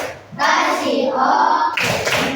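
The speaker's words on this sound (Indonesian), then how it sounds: "Ayo kita kasih dulu tepuk wow" A class of children claps hands together in a 'tepuk wow' clap chant, a sustained burst of dense, loud applause that drops off briefly before a second round of clapping near the end.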